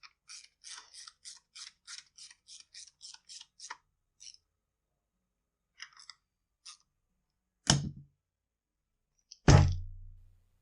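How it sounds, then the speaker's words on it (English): Tightening the two 8mm nuts that hold down the air filter plate on a Stihl MS192T chainsaw: a fast run of small metallic clicks from a ratcheting tool, a few more clicks, then two louder thunks near the end. "we're going to tighten up our two nuts that hold the air filter plate down"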